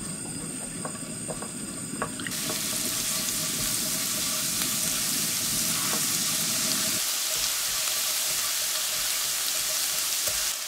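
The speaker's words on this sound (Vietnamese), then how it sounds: "Còn lại phần dầu ở trong chảo đó, mình tiếp tục cho hành tím và tỏi phi lên." Shallots and garlic frying in leftover oil in a pan for braised fish, a loud, steady sizzle with no voice over it.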